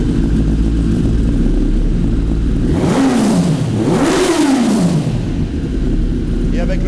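A 2024 Kawasaki ZX-10R sport bike pulls away and revs hard, the engine note climbing, dipping and rising again in two strong sweeps over a steady loud idle, with a voice heard near the start.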